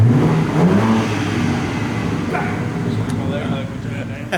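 A BMW G80 M3 fitted with an AWE catback and mid pipe revs up, the engine note climbing then settling into a steady drone with faint rumble and a few clicks toward the end.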